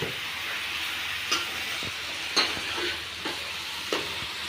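Green chillies go into masala frying in a pan for a masala nutri dish, with soft sizzling and a few light stirring scrapes and clinks spaced a second or so apart, quiet and close.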